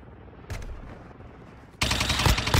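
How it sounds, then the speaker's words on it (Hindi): Shotgun blasts ring out in the mobile shooter Warzone Mobile during a team deathmatch, one sharp shot followed after a pause by a louder, longer burst of gunfire. "शॉटगन बहुत चला रहे हैं बंदे"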